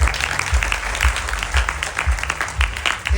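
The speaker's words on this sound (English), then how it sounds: "Clap again." Audience applause at a Ganesh Chaturthi Utsav celebration, steady dense clapping from a crowd that carries through the whole stretch at a fairly loud level with no pause.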